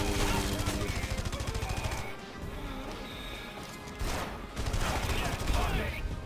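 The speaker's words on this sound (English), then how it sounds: "Oh god, that shotgun is deadly." Rapid shotgun blasts and crashing destruction in the video game Red Faction Guerrilla, dense and loud in two bursts separated by a brief quieter lull.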